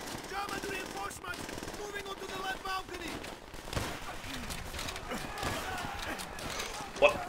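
Call of Duty gunfire, with rapid automatic bursts and scattered shots mixed with game effects, runs under ongoing voices talking.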